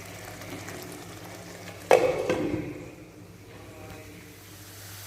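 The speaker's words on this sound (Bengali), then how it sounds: "এইভাবে মশলাটাকে ভালোভাবে ভেজে নেবো যতক্ষণ না উপরে তেল আসছে।" Masala spices and potatoes fry in hot oil for a Bengali rui fish curry, with a sudden loud sizzling burst that fades into a soft, steady hiss. No one speaks.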